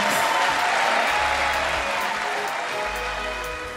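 Studio audience applause on a Turkish music show, dense sustained clapping that stays loud and steady before tapering slightly at the end.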